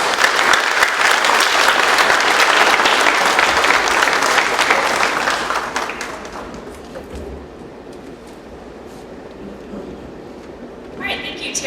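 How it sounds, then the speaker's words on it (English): Audience applause from an open house crowd, loud and steady for about six seconds before fading to a quieter patter, with a few claps near the end. "Let's give a great big round of applause for Michelle Mareshko."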